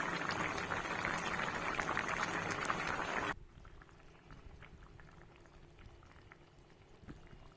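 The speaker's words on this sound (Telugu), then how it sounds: "స్టవ్ సిమ్లో పెట్టి మగ్గించుకోవడం అండి ఈసారి ఎంత బాగా ఉడుకుతుందో" A curry of dry prawns and small tomatoes boils on a stove, bubbling loudly and busily before abruptly dropping to a quieter, gentler simmer with occasional pops.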